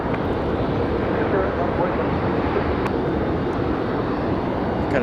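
A Delta Boeing 737 airliner lining up on a runway at Raleigh-Durham International Airport, a loud, steady jet engine roar filling the scene evenly throughout.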